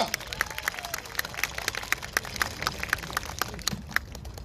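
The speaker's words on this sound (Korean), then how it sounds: "박수로 청해 듣겠습니다" Scattered clapping from a crowd before a song performance, with sharp individual claps spread across the clip at moderate volume and some background chatter.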